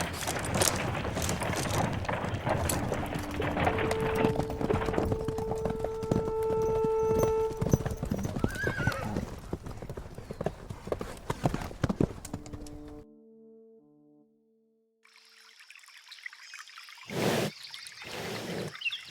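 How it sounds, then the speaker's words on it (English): Horse hooves clip-clop in a steady, moderately close walking rhythm over a long stretch while soft ambient tones play beneath. The hooves fade out near the end before faint rustling returns. "I liberated this horse for our first portion of our journey"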